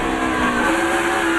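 A race car, the No. 88, loses grip going into a corner during a 2007 Yellow Transportation 300 race, its engine roaring loud and steady with a high tire-like whine sustained throughout, no voices on top.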